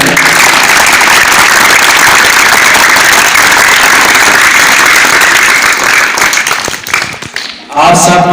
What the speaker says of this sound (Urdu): اپنے ٹیچرز کے لیے ایک دفعہ زوردار تالیاں بجائیں